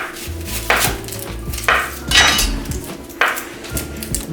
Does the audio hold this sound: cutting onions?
yes